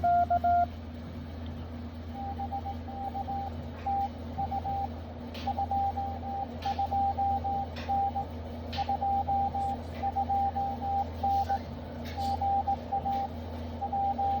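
A steady beeping tone keys on and off in dots and dashes over a constant low hum and hiss, like a Morse code radio transmission.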